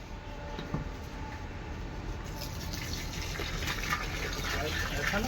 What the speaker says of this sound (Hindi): हम गाय का मूत्र डाल दिए